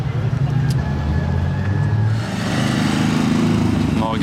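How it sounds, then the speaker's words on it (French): Morgan 3-wheeler engine at a car gathering, a loud, close, throbbing engine note that shifts pitch midway as it revs, with people talking over it. "Morgan 3-wheeler"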